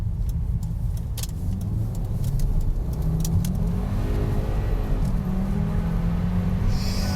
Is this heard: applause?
no